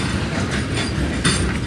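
An eastbound crude oil freight train led by CP locomotive 7015 rolls past with a steady rumble and rhythmic wheel clatter over rail joints, moderately close and continuous, with a brief brighter clank near the end.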